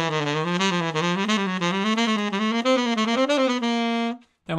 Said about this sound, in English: Anyway, play it on tenor, it sounds like this.